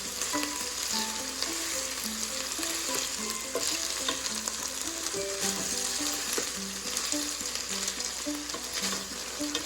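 Potatoes with pepper stirred in a hot sizzling pot of sopa de fideo, a steady loud fry hiss with scraping utensil strokes throughout, no talk.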